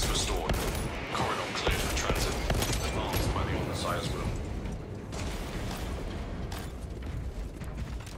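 Sustained gunfire in Warhammer 40k: Space Marine 2, a dense rattling barrage of rapid shots mixed with clanking mechanical sounds, loud and continuous with a voice briefly over it.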